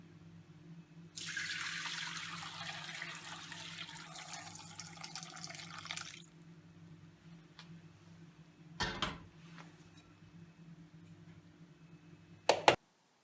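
Curdled milk for homemade ricotta poured through a strainer, a steady broad wash of liquid lasting about five seconds, followed by quieter dripping and a couple of sharp knocks near the end, with no voices.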